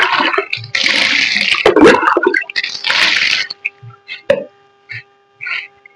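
Running water splashes loudly and close while a herbal leaf hair pack is washed out of hair, then breaks off into short scattered splashes and drips.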